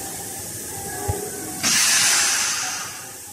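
Gas hisses out of an opened valve on a gas booster pressure test machine running up to 160 MPa. After a small click, a sudden loud, close hiss holds steady and then slowly eases.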